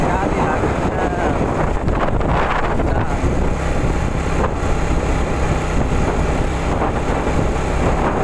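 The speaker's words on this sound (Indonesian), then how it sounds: "ditambah angin juga sangat kencang guys. Wah, anginnya sungguh sangat kencang sekali anginnya." Strong wind blowing outdoors by a bypass road at sunset, a loud continuous roar and buffeting rumble against the microphone that fills the whole stretch, steady with slight gusting swells.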